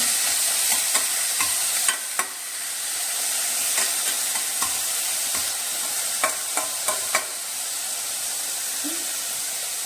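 Potatoes fry with masala in oil in a pan (achari aloo baingan), a continuous close sizzle broken by repeated spoon clicks and scrapes from stirring, fairly loud and steady with no speech.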